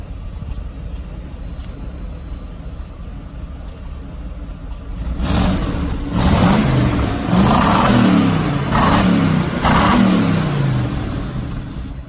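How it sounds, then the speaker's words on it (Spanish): A Mercedes SL500 Koenig Specials engine idles steadily, then revs loudly in several rising and falling surges. The sound is close and runs alone with no talk. "solo voy a pegar un par de acelerones"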